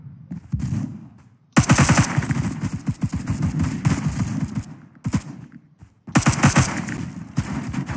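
Rapid automatic gunfire from the Roblox game Phantom Forces rattles in long, loud bursts, broken by a couple of short pauses, with dense overlapping shots throughout.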